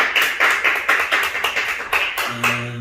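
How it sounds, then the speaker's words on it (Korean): A church congregation at a Friday prayer meeting claps in rhythmic bursts, roughly eight to ten evenly spaced beats, close and fairly loud, ending with a brief sustained tone. "우리 시간 하나님께 영광의 박수 올려드릴까요?"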